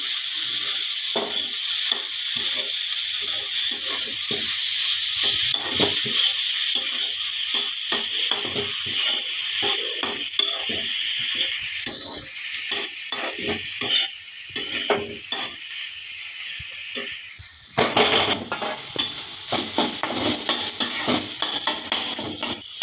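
Cooked cauliflower frying in a pan over a low flame gives a constant close sizzle, broken by repeated scraping strokes of a spoon or spatula stirring it. No one speaks.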